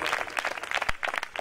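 A church congregation breaks into loud, dense applause, many hands clapping together in a brisk, continuous patter that fills the room.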